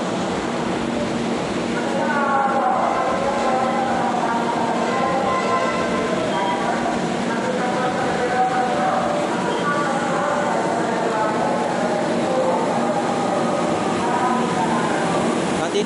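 Metro Manila MRT-3 train pulling into a platform, a steady broad rumble with rising screeching tones throughout, heard amid station crowd noise and people talking.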